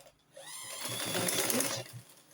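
Sewing machine running steadily for about a second and a half while stitching a corset lining, close and moderately loud, starting and stopping cleanly.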